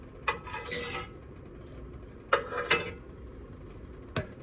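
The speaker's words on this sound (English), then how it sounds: "We'll stir this up." A spoon stirring a pot of gumbo with shrimp, giving a few sharp metallic clinks and scrapes against the pot, separated by quieter stretches, fairly faint and with no talk.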